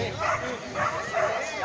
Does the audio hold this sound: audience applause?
no